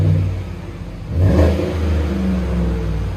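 A 2018 GMC Sierra Denali with a 5.3L V8 and Flowmaster Super 44 exhaust revs once, the deep exhaust note swelling sharply then holding a steady rumbling drone, loud and close with no talking.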